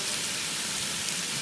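Pheasant breast sizzling in a pan, a steady close hiss of frying that holds evenly throughout with no voices over it.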